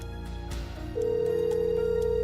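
A telephone tone sounds over a steady hum. After a brief click, a continuous electronic tone sets in and the call goes unanswered; no voices.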